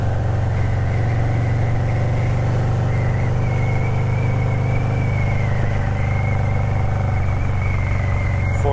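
Riding a motorcycle at 45 mph in a Ruroc Atlas 3.0 helmet with the visor barely open: a constant, loud wind roar over a low engine drone, steady and unbroken with no talking.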